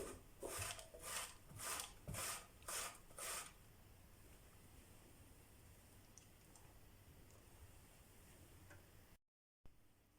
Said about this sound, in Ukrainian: Далі натираємо картоплю на великій терці.